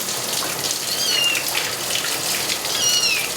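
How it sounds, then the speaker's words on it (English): Tap water runs steadily for a kitten bath, a continuous hiss and splash close by, while a kitten lets out two thin, high mews over it. "Then you just want the water running"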